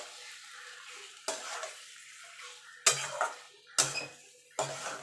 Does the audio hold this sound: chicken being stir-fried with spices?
yes